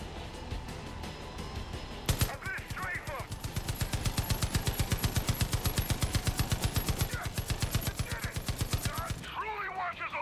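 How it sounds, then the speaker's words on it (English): Sustained rapid machine gun fire from Far Cry 5 hammers out in a steady, loud rhythm for most of the stretch, with brief talk at the start and end. "Take it out with a machine gun."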